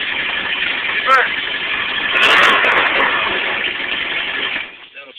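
Boat engine running steadily in reverse, a constant mid-pitched motor drone that swells briefly then drops away near the end, with someone talking over it.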